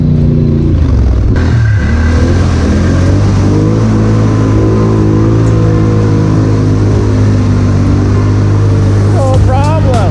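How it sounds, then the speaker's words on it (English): Yoshimura-exhausted ATV engine revving hard on a muddy trail ride, a loud, thundering drone with rising and falling pitch close by throughout, with brief voices in the background. "So that Yoshi exhaust is thundering."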